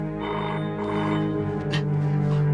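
A telephone rings with a steady electronic tone that pulses in short bursts, sounding close and fairly loud with a constant hum beneath.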